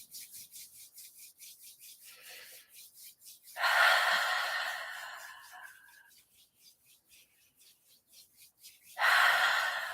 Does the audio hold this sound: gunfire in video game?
no